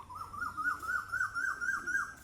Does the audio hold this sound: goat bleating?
no